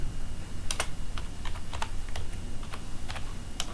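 Computer keyboard typing while entering text in Excel, a quick irregular run of light key clicks, close and clear over faint background hiss.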